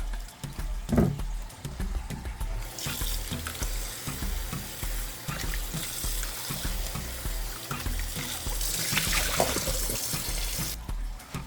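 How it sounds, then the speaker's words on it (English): Vinegar is poured over a raw piece of beef to wash it for a pot roast, giving a steady stream of splashing, running liquid with louder surges, close and alone without any talk. "I'm gonna wash it with some vinegar."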